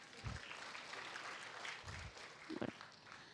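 An audience at an Indonesian talk show applauds, a soft, faint patter of clapping that continues steadily, with a few louder thumps.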